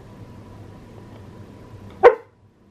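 A pet dog gives a single sharp, loud bark close by, preceded by quiet indoor room tone in a home where someone is working from home.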